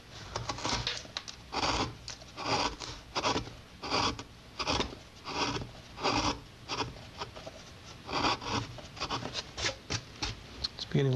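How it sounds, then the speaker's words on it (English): A hand tool carves and rasps the ends of wooden guitar braces, making rhythmic scraping strokes, steady and close, with faint talk underneath. "Now I carve off the ends."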